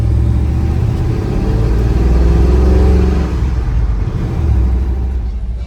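A 1987 Ford Thunderbird fitted with long tube headers drives past, its engine a steady, loud low rumble that holds throughout with a slight rise in revs, and no talking.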